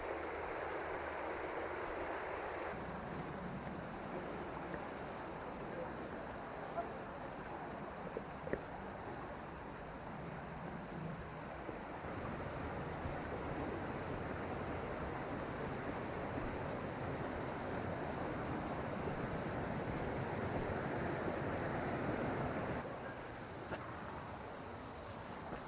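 A woodland brook pours over a small natural dam in a temperate rainforest, making a steady broadband rush of falling water that stays close and constant throughout, with no voices.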